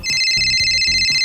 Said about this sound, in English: Where's the ringing come from?